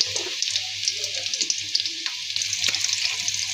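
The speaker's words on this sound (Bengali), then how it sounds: "দিয়ে দিব আস্ত গরম মশলা," Whole garam masala spices sizzle in hot oil with chopped onions in a wok for chicken haleem: a constant close frying hiss dotted with small crackles and pops.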